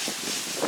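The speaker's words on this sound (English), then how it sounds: "it is windy out here." Steady wind rushing across a microphone outdoors, a broad constant roar with a slight gust near the end.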